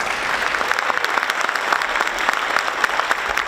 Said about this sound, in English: Let's give Gwen a big round of applause.